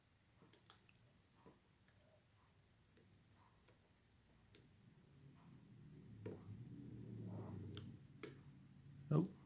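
Faint, sparse clicks from picking an all-brass American padlock fitted with an anti-bump pin, spaced irregularly at close range over a low background rumble, ending in a louder knock.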